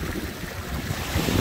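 Sea waves and a strong current at high tide on Catanduanes Island, Loran, Bagamanoc, give a steady broadband wash of surf mixed with wind buffeting the microphone, loud and continuous with no voices.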